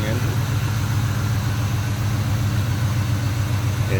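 A 1997 Ford Mustang Saleen S281 convertible's V8 engine idles steadily with a deep, smooth low rumble that holds even throughout, close by and fairly loud.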